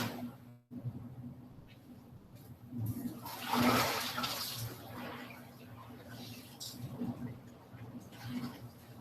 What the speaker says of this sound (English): Spill out the hot water.